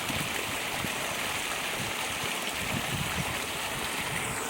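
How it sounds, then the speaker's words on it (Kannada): Water rushes steadily through a rural irrigation channel beside a road, a constant broadband roar with no breaks, close and moderately loud. "ಚಾನಲ್ ನೀರು."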